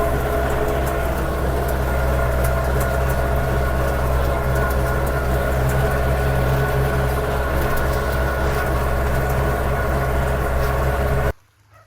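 A tractor runs steadily in a garden field that is being tilled or sown, giving a loud continuous engine drone close by that cuts off abruptly at the end.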